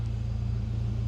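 A BMW E36 3 Series with an M44 engine runs close by, a deep, steady pulsing rumble with an even, fast beat and no talking.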